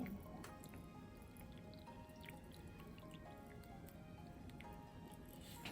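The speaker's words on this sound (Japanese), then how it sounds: "今日は玄米茶を入れてみたいと思います" Genmaicha tea trickling and dripping onto dried soybeans, a soft, steady patter of small drops and liquid splashes, faint and close, with no talking.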